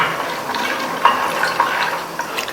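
Water poured into a pressure cooker over soaked peanuts, a soft continuous splashing and gurgling pour with a few brief brighter plinks, close and alone.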